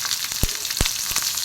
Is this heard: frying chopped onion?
yes